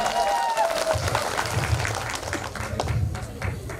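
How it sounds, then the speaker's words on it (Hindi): Audience applause at a large seminar gathering, a steady wash of clapping from a crowd at moderate loudness with a faint tonal sound drifting through at the start. "जोरदार तालियां प्लीज इनके लिए।"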